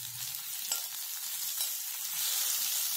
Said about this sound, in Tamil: வெங்காயம் நல்லா வதங்கினதும் ஒரு தக்காளியை கட் பண்ணி சேர்த்துக்கோங்க.